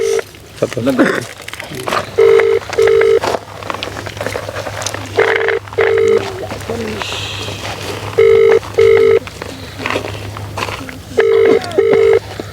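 A phone call rings out unanswered, with repeated paired ringback tones in a steady on-off pattern over a low hum. People speak intermittently in the background.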